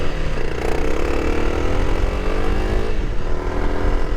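A performance-modified motorcycle accelerates hard and close, its engine rising steadily in pitch with a brief dip before climbing again, loud and continuous with no talk.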